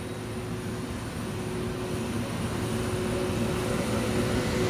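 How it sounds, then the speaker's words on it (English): Simulated engines of a Toliss A321neo airliner in the X-Plane 12 flight sim with a BSS sound pack, a steady loud jet hum and whine that slowly swells, with no voices. "Look at those Neo engines."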